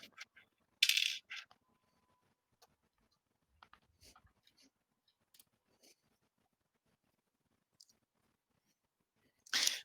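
Dice rattle and clatter onto a table during a Pathfinder tabletop game: one sharp burst near the start and another at the end, with soft scattered clicks in between in a quiet room.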